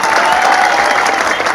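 Audience at a Hindi comedy poetry gathering clapping loudly and densely, a brief burst of close, continuous applause with crowd noise.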